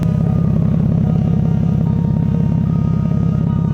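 A VeilSide-modified Toyota Supra's exhaust idles loudly nearby, a deep, rhythmic burbling rumble that stays even throughout.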